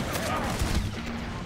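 A pump shotgun fires in Red Dead Redemption 2, with sharp, loud blasts in quick succession mixed with other in-game gunfire, layered under voices over a short burst.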